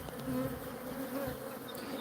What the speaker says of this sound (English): these are killer bees